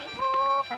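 A chicken gives a brief, close cluck, a short nasal call.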